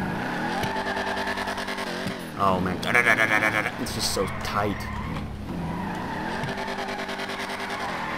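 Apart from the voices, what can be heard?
muscle car engine revving in video game GTA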